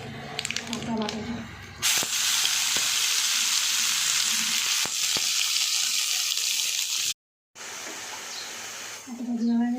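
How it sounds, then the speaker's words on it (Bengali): Taro leaf and prawn-head paste with black cumin seeds hits hot oil in a sudden loud, hissing sizzle that runs on steadily and briefly cuts out near the end, with a voice talking before and after. "তেলটা গরম হয়ে গেছে, দেবো কালো জিরে ফোড়ন আর দিয়ে দেবো পাতা বাটাটা।"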